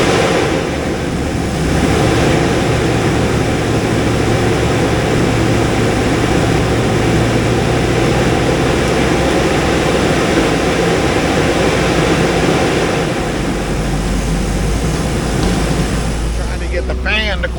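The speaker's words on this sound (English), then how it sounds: "Give you an engine test video" A steady, loud engine drone from a 2007 Hummer H2 with a 6.0L LQ4 V8 runs throughout with a constant low rumble and broadband roar, close by and unchanging, as if idling under load.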